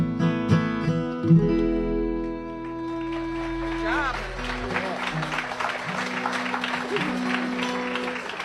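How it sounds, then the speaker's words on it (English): Music fades out and an audience breaks into sustained applause, a dense wash of clapping that continues steadily to the end. "Again, a nice round of applause,"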